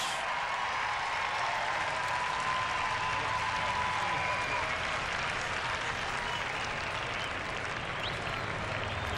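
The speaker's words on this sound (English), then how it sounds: "That is the biggest cheer for a wild pitch you will hear in spring training" Crowd at a spring training baseball game between the Athletics and Cubs cheers loudly after a wild pitch, a dense, sustained roar of voices and applause that stays steady for about nine seconds.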